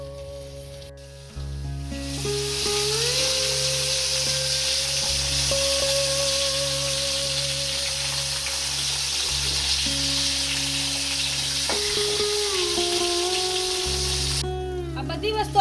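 Raw mango and tomatoes roast in a pan for Kathiawadi mango chutney, with a steady close sizzling hiss throughout and a faint tonal hum running underneath.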